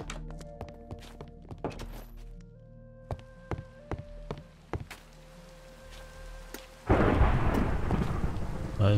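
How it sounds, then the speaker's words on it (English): In Minecraft with the Prominence 2 modpack, scattered soft knocks and tones give way to a sudden steady hiss of heavy rain, with a low thunder rumble beneath. "Blessed rain. It sounds like there is about to be thunder."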